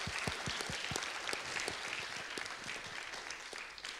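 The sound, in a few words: audience applause for a panel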